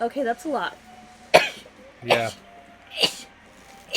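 Several short, sharp sneezes or sneeze-like bursts break through ongoing conversation, each a sudden loud broadband blast, spaced about a second apart.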